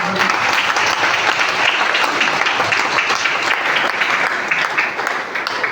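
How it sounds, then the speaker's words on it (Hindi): A crowd at an event gives a long round of applause for a respected coach and mentor, the clapping thick, continuous and loud for several seconds, fading slightly at the end. "उनके लिए एक बार तालियां बजा सकते हैं"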